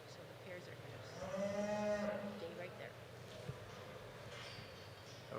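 Cattle moo in a show ring at a livestock show, one drawn-out low moo standing out over a faint hall ambience with scattered background noise.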